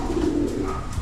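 Pigeons coo inside a loft, a single low, throaty rolling coo heard close and fairly loud, with no voices over it.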